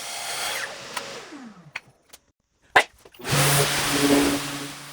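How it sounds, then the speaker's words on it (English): A power tool cuts scrap wood in two, whining loudly before spinning down, then falling briefly quiet with a few clicks and knocks before the motor revs up again, close and continuous. "I proceeded to cut the wood into 2"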